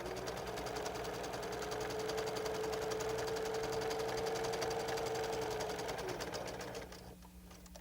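A sewing machine stitching quilt pieces runs continuously at a steady rapid rhythm with a droning motor whine, close and loud, then slows and stops near the end.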